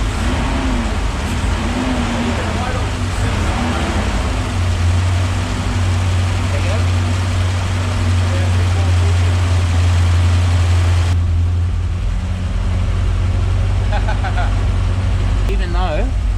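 A Porsche V8 engine, kept in a car being converted to electric, fires up and settles into a steady, deep rumbling idle in neutral, loud and continuous, with people talking over it.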